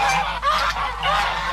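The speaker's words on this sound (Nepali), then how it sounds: "यो कति हल्ला गरेर हाँस्छ" Geese in a park at Bukit Jelutong honk loudly and continuously, a close, raucous chorus of overlapping calls with no talk over it.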